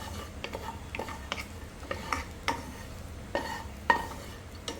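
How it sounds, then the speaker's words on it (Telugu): Cashew nuts fry in a pan over low heat as a soft, continuous sizzle, with a string of light clicks and scrapes from a spoon stirring against the pan. "ఇప్పుడు డ్రై ఫ్రూట్స్ అయితే ఫ్రై చేసుకుందాం"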